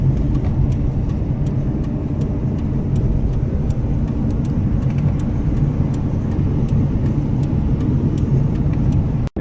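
Pickup truck towing a fifth wheel trailer at about 65 to 70 mph on the highway, a loud continuous road and engine roar with rhythmic faint ticking clicks over it, steady and close until a sudden cut at the end.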